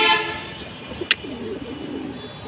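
Deep blue Jabra Panki pigeons coo in low, soft rolling tones across the whole stretch, with a brief sharp high chirp partway through and steady background hiss.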